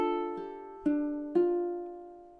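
Ukulele plucked chords from a song ring out clean and quiet, with three struck chords each decaying slowly into the next in an even, unhurried rhythm.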